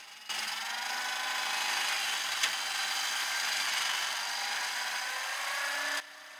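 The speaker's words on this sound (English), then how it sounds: "it's the little seat cut pieces, the little triangles, as they're kind of popping and releasing" Circular skill saw gang cutting seat cuts through a stack of wooden rafters, with a steady high whining cut lasting several seconds, one sharp tick midway as a small wood triangle pops loose, then an abrupt stop.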